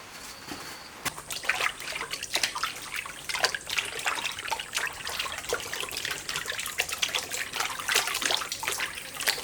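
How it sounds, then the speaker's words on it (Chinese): Pork tripe being rinsed clean with running tap water: a continuous splashing, trickling flow with scattered clicks and knocks from handling, close by and moderately loud, with no voices. "然后用清水给它清洗干净。"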